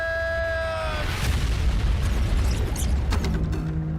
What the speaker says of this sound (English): let's take a peek at that explosion real quick